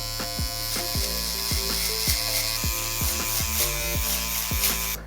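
An Uno electric shaver buzzing close up as it shaves hair during a mid fade haircut on a fohawk, a loud steady motor drone broken by repeated short strokes, with no talking.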